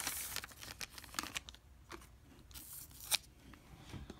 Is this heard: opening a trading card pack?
yes